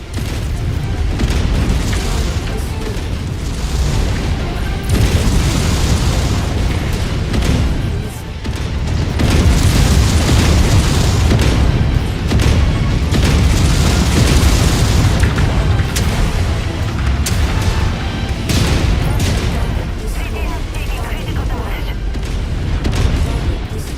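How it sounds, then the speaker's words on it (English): A battle mech blows apart in MechWarrior 5: Mercenaries with loud, repeated booms and explosions rolling on for about twenty seconds, dense and heavy throughout, with some voice audible at times. "It's about to go all explodey."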